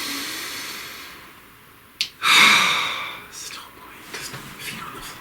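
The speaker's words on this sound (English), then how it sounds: "Please take a nice deep breath." A person draws one deep, audible breath mid-clip, then exhales softly. Faint rustles and small clicks follow during a calm tarot reading session, and no words are spoken.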